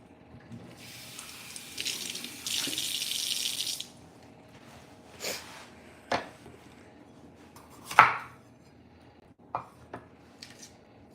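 A kitchen faucet runs in a steady broadband rush for about three seconds as something is rinsed under it, followed by a few scattered clinks and knocks of handling and dishes at the sink.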